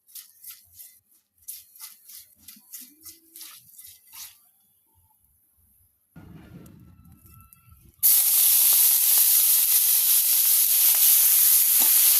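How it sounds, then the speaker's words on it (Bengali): Small shrimp coated in turmeric and salt frying in oil: after some quieter intermittent bursts and a low rumble, a loud, steady sizzle starts abruptly and holds to the end. "চিংড়ি মাছে এখন হলুদ আর লবণ মাখিয়ে এগুলোকে ভেজে নিব।"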